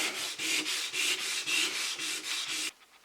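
An oak floor is sanded by hand in close, rhythmic back-and-forth strokes. About nine even rasping passes come in a steady beat before the sanding stops.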